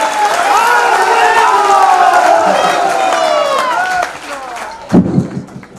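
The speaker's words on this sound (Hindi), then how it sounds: "जोरदार तालियों से स्वागत करें" An audience at a ceremonial welcome gives loud, sustained applause mixed with crowd cheering and voices, tapering off near the end with a brief louder burst.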